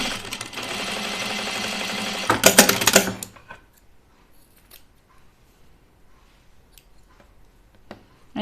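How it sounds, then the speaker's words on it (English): Sewing machine top stitching thick knit fabric for a pajama top, a loud steady run of about two and a half seconds ending in a brief burst, then near silence with faint small handling clicks. "I'm going to top stitch this down"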